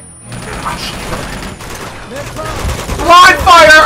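Gunfire during combat in the video game Uncharted 2: Among Thieves, a clatter of shots and impacts that builds toward the end, mixed with a voice talking over the action.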